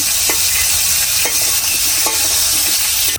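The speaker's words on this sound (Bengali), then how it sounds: "হালকা করে ভাজা নিচ্ছি" Pointed gourd pieces crackle and sizzle loudly in hot oil while a spatula scrapes through them every second or so; no one speaks.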